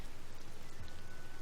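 Rain in the video game Tears of the Kingdom, a steady dense hiss of falling drops that fills the scene evenly without pause.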